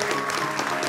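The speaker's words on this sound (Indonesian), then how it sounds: "kita berikan tepuk tangan sekali lagi yang luar biasa" Audience applause at an Indonesian talk show, a dense, steady wash of many hands clapping at once, loud and close, with no voices heard over it.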